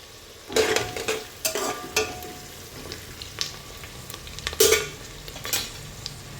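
Curry leaves hit hot oil with spices for Khandeshi masala bhat, giving bursts of crackling sizzle and spattering alongside the scrape of a stirring spoon against the pan.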